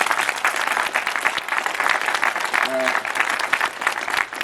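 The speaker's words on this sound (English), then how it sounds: "Give him a big round of applause." Audience applause at a boxing press conference in Alabama, loud dense clapping sustained throughout with crowd noise, and a voice speaking briefly over it.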